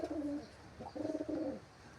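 Domestic pigeons cooing in a home loft, two bouts of soft throaty coos repeating close by with a brief pause between them, and no talking.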